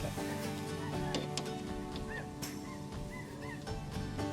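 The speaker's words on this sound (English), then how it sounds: "Here's some ducks going over." Ducks flying overhead give several faint, scattered honks above a steady, busy outdoor background during a headlight replacement on a 2004 Pontiac Montana.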